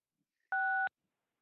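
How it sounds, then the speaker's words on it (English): A single short telephone keypad tone sounds, clean and steady, from a caller dialing in to unmute during a township board of supervisors meeting call, with silence before and after. "please dial *6 on your phone to unmute yourself"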